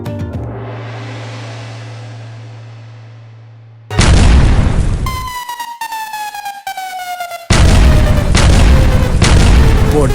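Firecrackers in an advertisement: an opening bang decays away, then loud crackling blasts erupt, broken by a whistling rocket whose pitch slides downward before another sustained barrage of explosions.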